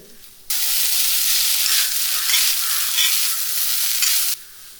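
A steady, loud sizzle of spices roasting in coconut oil in a pan for mushroom curry runs for several seconds, starting and stopping abruptly, with faint stirring scrapes underneath.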